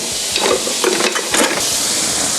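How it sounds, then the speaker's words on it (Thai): Loud, steady sizzling of squid searing in a very hot pan, with a few soft scraping stirs cutting through the hiss. "เสร็จแล้วลงกระทะเลยครับ ร้อนจัด"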